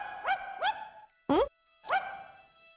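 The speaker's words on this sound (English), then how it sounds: "That bark." A cartoonish dog barks in the Twisted Wonderland video game, four short rising yips with a bright ringing tone and a brief chime between them, over faint game music.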